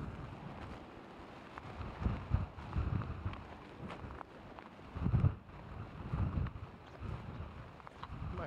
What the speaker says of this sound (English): the wind is picking up and more snow is already hitting Boston